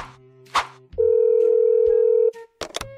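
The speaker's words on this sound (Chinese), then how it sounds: "对了，给田小号打电话。" A telephone ringback tone plays during an outgoing call: one steady, loud tone lasting over a second, bracketed by brief clicks and handset noises.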